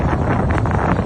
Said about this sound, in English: Windy, look how windy it is.